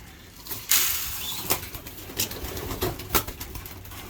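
Domestic racing pigeons fly around a loft as young birds are let out, with several soft wing-flap bursts and faint rustling against quiet outdoor background, no voices.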